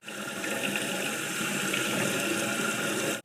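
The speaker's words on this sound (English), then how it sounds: "The first thing we're going to do is rinse our rice. We're just using long grain rice here." Long grain rice being rinsed under a running tap, a steady close rush of water splashing over the grains into a sink for the full few seconds, with no talking.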